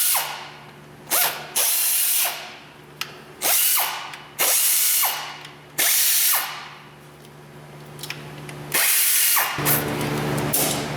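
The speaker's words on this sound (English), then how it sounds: "I'll finish zipping all the bolts out." A ratchet wrench zips in repeated bursts as bolts are backed out of a Chevy Colorado engine, each run a loud, close, buzzing clatter separated by brief pauses, with no talk.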